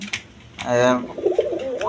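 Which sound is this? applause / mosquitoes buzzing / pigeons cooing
pigeons cooing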